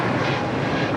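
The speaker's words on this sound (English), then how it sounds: "This might be the only one in their fleet. This A321neo. Look at that." An Airbus A321neo airliner at Los Angeles International Airport gives a brief, steady, loud jet roar that fills the moment without a break.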